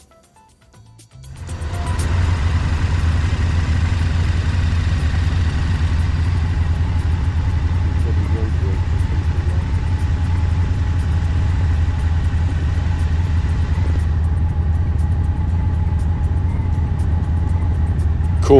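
Engine noise caught in traffic while motorcycle touring in the Yorkshire Dales near Pateley Bridge, England: a steady, loud low rumble of idling engines starts after a brief quiet moment and holds throughout with no talk.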